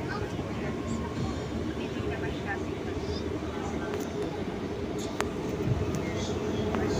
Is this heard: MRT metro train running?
yes